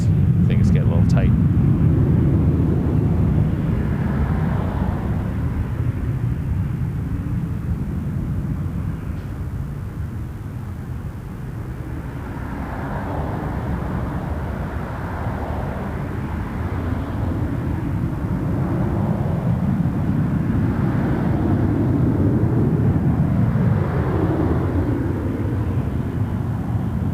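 An airliner taking off from runway 05 at Toronto Pearson Airport, a steady, broad engine roar that swells and fades in long waves, heard from a distance with a voice talking over it.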